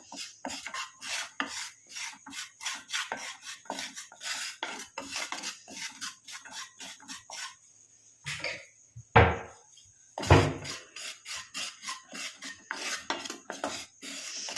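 Dry powder being roasted in a pan for a homemade grey-hair remedy and stirred steadily, giving close, rhythmic scraping strokes, with a short break near the end broken by a couple of louder knocks before the stirring resumes.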